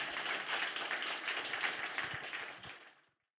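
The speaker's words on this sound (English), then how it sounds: "Applause for Maria, because the presentation was amazing." Sustained crowd applause fills the hall after a presentation at a Cannes streaming forum, a dense wash of many hands clapping at steady loudness before cutting off abruptly near the end.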